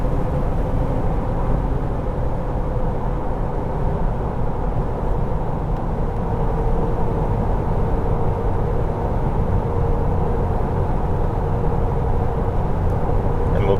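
A Jeep TJ with 3.73 gears and 32-inch tires drones steadily from inside the cab while driving under light throttle. Low engine and road rumble holds constant throughout.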